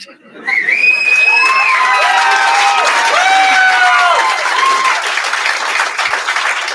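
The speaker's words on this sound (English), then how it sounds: "Well, everybody's clapping for that." An audience in an old talk radio recording claps and cheers loudly, with dense applause, whoops and shouted voices filling the room right after a brief quiet start.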